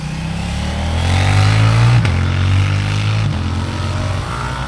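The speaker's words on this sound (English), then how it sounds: "there's all the bikes been racing on the track" Motorcycles race on a track, engines droning and rising in pitch as they pass fairly close, loud and continuous with a swelling, then fading roar.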